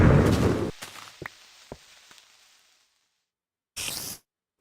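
A blocky explosion in Minecraft Alpha 1.2.6 lands as a loud, noisy crackling burst up front, followed by a few sharp pops and ticks fading into near silence, then a brief second burst of noise.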